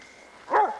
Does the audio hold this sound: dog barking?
yes